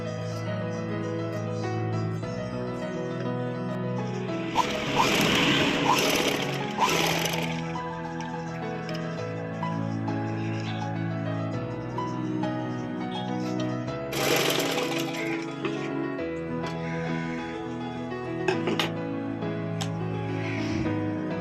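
A sewing machine stitches a long frock made from a silk saree, running in a steady, close mechanical whir that continues alone through the whole stretch, with a couple of louder, busier bursts.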